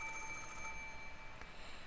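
A telephone rings steadily in the Umineko visual novel late at night, a continuous electronic bell tone that persists without pause and is heard alone.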